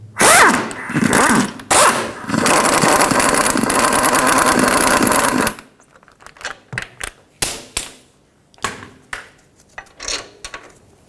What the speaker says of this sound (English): Using a 21mm socket, remove the caliper bracket bolts.